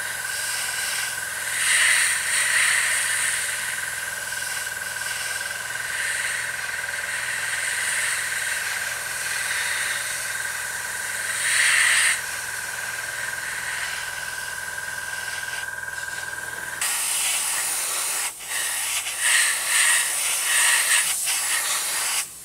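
An airbrush compressor runs while white paint is sprayed onto a 1/72 Fine Molds Y-Wing model kit, giving a steady hiss with a constant tonal whine that cuts off abruptly partway through, followed by softer hissing bursts.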